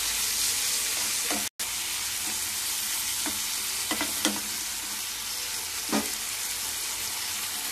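Chopped tomatoes with tamarind are stirred in a hot pan, a steady sizzling hiss with a few distinct scraping strokes of the spoon, near and without speech, briefly cut off once.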